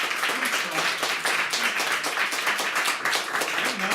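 An audience at a keynote talk claps steadily throughout, a dense, even patter of many hands filling the room, with faint voices mixed underneath.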